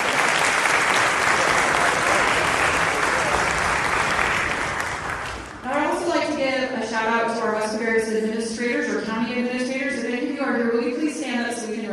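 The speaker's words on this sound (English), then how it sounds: "Let's give our parents a round of applause." Audience applause for the high school marching band's parents at a fall band event, a dense burst of clapping for about five seconds that gives way to a voice speaking.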